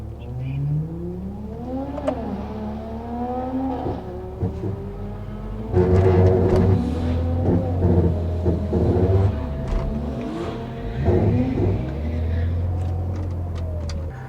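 A BMW E90/E92 335i with the N54 engine pulling away on a drag strip, the engine note climbing through rising gears with a deep rumble, close and loud, with voices talking over it.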